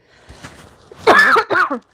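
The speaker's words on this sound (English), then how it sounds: "I'm so sorry for coughing at you." A couple of harsh, throaty coughs up close, following a quieter stretch of faint low rustling.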